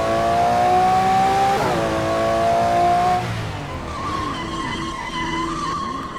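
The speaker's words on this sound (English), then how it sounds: "Disabling ABS will cause our car's wheels to lock up and cause our car to spin" A car in the racing game Midnight Racing: Tokyo skids hard with its wheels locked, a loud sustained tire squeal that bends in pitch, then engine revving and wavering screeches as the car spins out.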